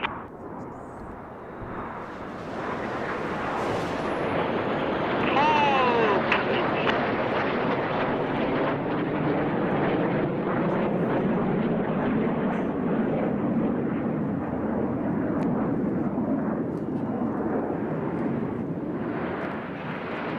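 Red Arrows jets fly a display at the 2024 Goodwood Festival of Speed, with Reds 4 and 5 rolling outward in a rollback manoeuvre. A broad, sustained jet roar swells and holds throughout beneath continuous commentary.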